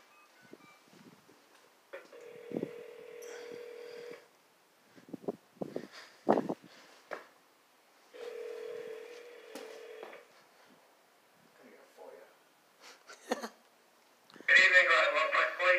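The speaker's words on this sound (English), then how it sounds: "Should we press the intercom?" Two sustained intercom buzzer or dialing tones, each about two seconds long, ring out at a building entrance between quiet stretches and faint handling noises, with a louder burst of sound near the end.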